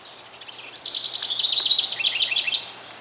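Birds sing in a garden on an early summer morning, a bright chirping warble that rises and fades over a few seconds against quiet background.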